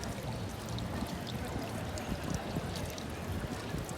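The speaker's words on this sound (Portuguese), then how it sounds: "Você tampa aqui, ó. A água vai subir" Water gurgling and pouring from a Roman public drinking fountain as its spout is blocked, a faint steady trickle and splash with scattered light clinks, quiet and without talk.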